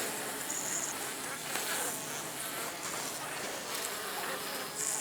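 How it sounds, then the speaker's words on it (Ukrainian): Dense, steady buzzing of many honeybees in an opened log hive after frosts, close up and continuous, with a few louder individual bees droning past. "А ось і бджоли. Бджоли вже готові майже на виліт."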